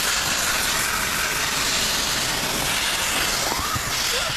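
A steamer hisses steadily and loudly while tint film is stripped from a car windshield, a continuous broadband rush with no breaks.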